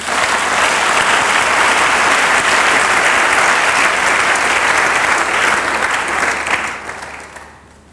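Sustained, loud applause from a church congregation praising the Lord, dense steady clapping that fills the whole clip and fades out near the end.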